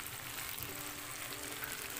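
Freshwater shrimp sizzling as they deep-fry in hot oil, a dense, even crackle that holds steady with no pause or voices.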